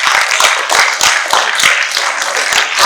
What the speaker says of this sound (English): Let's welcome John with a huge round of applause